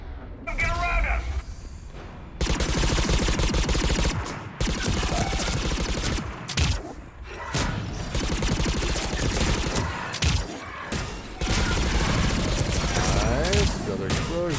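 Gunfire and explosions from the video game Mass Effect 3 make a dense, loud stretch of rapid shots and booming blasts with only brief gaps, while a voice talks over the combat.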